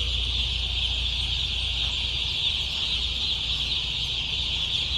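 Newly arrived chicks in a poultry control shed, heard as a dense, continuous high-pitched chirping chorus from many birds over a steady low hum of the shed.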